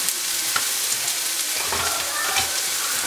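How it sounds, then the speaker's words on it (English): Mushrooms frying in vegetable or peanut oil for potsticker dumplings, a steady close sizzle and crackle with occasional spattering pops and faint stirring throughout. "in goes your mushroom. Fantastic, we're going to fry that off."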